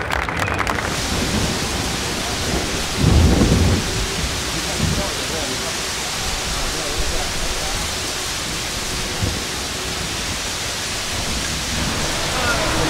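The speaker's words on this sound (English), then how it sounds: "It's raining." Heavy rain pours steadily on a car roof with deep thunder rumbling, a low thump rising briefly early on and the roar of the downpour continuing throughout, and a voice is heard faintly at the start.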